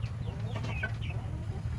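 A two-month-old Polish chicken makes soft, faint clucks and short chirps over a steady low hum of background noise.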